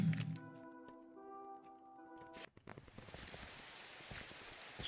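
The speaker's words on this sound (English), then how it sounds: "It's raining." Steady rain falls in a Minecraft Skyblock game as a soft, continuous hiss, preceded by a few brief game tones and clicks, and it continues quietly to the end.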